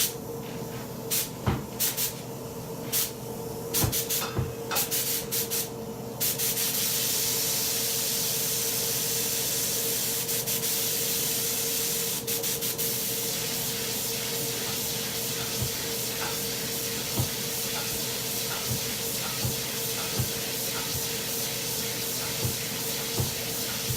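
A spray gun lays down a light tack coat of Tamco HC-9500 clear coat, a steady close airy hiss that starts after a few clicks and knocks and runs unbroken over a constant background hum.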